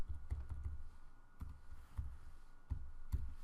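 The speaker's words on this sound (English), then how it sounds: "Let's say that I type in a first name here], Peter" Computer keyboard typing a first name into a patient form in orthodontic software, a quiet run of irregular soft key clicks in small bursts, close up, with no voices.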